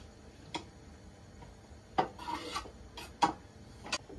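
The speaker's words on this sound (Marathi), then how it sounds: "आपण जे ब्रेड घेतले त्याचे आपण आता कॉर्नर कापून घेणार आहोत" A knife trims the corners off bread slices on a board, making a handful of short, quiet scraping taps spaced irregularly over a low, near-silent background.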